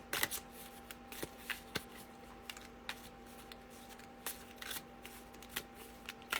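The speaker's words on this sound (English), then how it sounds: "I'm just shuffling away." Tarot cards are shuffled by hand in a quiet room, making soft repeated riffling flicks and taps at an irregular pace over a faint steady hum.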